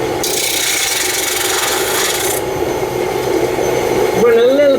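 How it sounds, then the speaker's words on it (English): A spindle gouge cuts spinning Mahonia wood on a lathe while shaping a ring box, giving a loud, steady rasping scrape over the motor's hum, with a whining tone rising near the end and a person talking throughout. "So we're going to start off with a spindle gouge"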